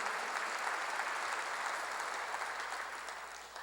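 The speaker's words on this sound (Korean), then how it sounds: "박수하세요." Church congregation applauding together during a Korean sermon, a steady dense wash of clapping that holds loud throughout and fades slightly toward the end, with no talk over it.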